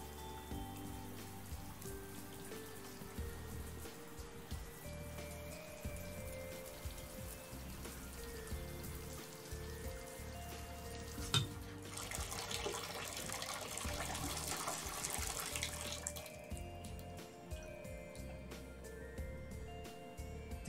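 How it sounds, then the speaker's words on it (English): A shower running in the horror video game Impostor, with the bath already full: steady, soft patter of spraying water, fairly quiet, with a brighter hissing stretch near the middle and no talk. "I mean, it's making shower noises, but the bath is quite clearly full."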